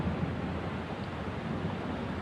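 Some 40,000 gallons of water cascading down the side of a park hillside toward a lake, heard as a steady, dense rushing wash, fairly faint and unbroken, with no voices.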